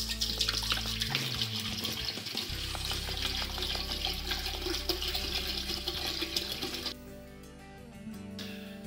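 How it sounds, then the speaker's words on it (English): Sugar wash from a turbo yeast batch pours steadily into an Air Still distiller, a loud continuous splashing and gurgling stream that runs for about seven seconds before tapering off to a quieter trickle. "So what we're going to do is pour this into the distiller."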